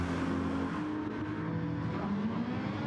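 Ferrari race car engine from a Gr3 racing video game at Interlagos, a steady loud droning engine note with shifting pitch, sustained throughout without talk.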